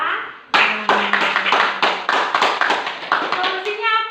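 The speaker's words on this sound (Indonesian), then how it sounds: "Tepuk tangan" A small group of students in a school group counseling session claps hands together, a string of sharp, close claps with a voice at the end.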